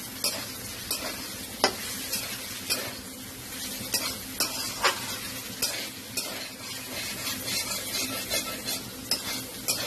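Maurola fish, fried earlier, being stirred and sautéed with vegetables in oil in a pan, giving a steady close sizzle broken by repeated scraping strokes of a spatula, with no talking.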